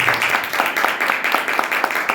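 A church congregation claps together in praise, a steady run of sharp, closely spaced claps lasting a couple of seconds, fairly loud and near.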